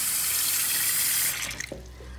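Tap water pours hard into a clogged kitchen sink, a loud steady gushing rush that cuts off partway, leaving gurgles and a lower trickle from the backed-up basin.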